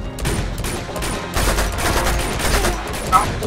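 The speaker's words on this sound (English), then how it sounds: "Who's shooting at me?" Rapid gunfire bursts crackle through a shootout in the video game Uncharted 2: Among Thieves Remastered, loud and continuous with overlapping shots and a few sharper cracks near the end.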